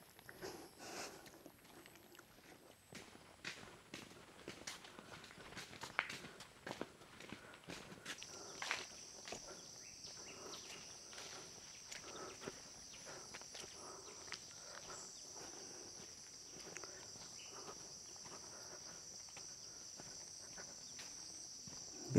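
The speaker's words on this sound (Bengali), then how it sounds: "পোকার আওয়াজ" Insects chirp steadily in a quiet rubber plantation in Fulbaria, Mymensingh, a faint high continuous trill with footsteps crunching softly in the foreground.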